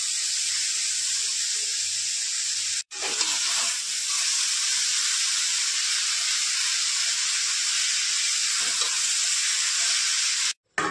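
Methi greens with chopped garlic and salt frying in a hot pan, a loud, steady hiss and sizzle filling the whole stretch, briefly cut off twice, with no voices.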